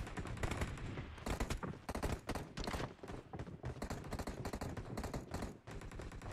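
A fast-firing, low-recoil gun in the BGMI video game, long rapid bursts of sharp shots with brief gaps, loud and close, no voices.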